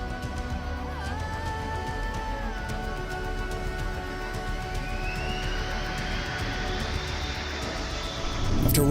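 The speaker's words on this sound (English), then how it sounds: "This video was recorded in 2006 as an Airbus A321-200 was trying to land at Lisbon Airport in Portugal." Airbus A321-200 trying to land in strong crosswinds at Lisbon Airport in 2006, a constant loud jet engine roar with rising and falling tonal whines, swelling louder near the end under gusty wind noise.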